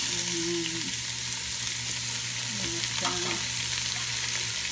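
Chopped vegetables and other ingredients sizzle steadily in a pan after garlic has browned, a continuous close frying hiss with a faint background hum.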